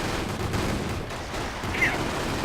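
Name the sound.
Panzerschreck rocket launcher firing in a WWII video game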